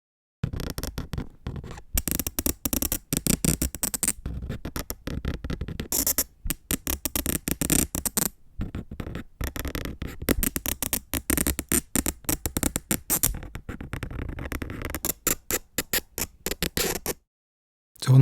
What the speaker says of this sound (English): let me just play you some audio recording that I recorded separately of what it sounds like scratching across the paper